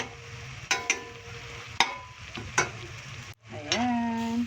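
Moringa leaves added to coconut milk with tambakol fish simmering in a pan, with soft bubbling and several sharp clinks of a utensil against the pot, close and alone.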